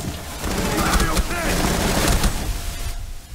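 Rapid video game gunfire crackles in a dense, continuous burst under loud background noise, with no clear separation between individual shots.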